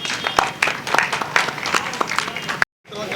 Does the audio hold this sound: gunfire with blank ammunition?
no